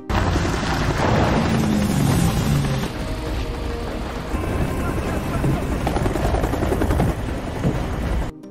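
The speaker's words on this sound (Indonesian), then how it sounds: "Dan helikopter untuk menjemput mereka juga sudah datang." A helicopter arriving to pick up a team in a film, its rotor thumping loud and close in a dense, continuous roar, with voices faintly heard under the noise.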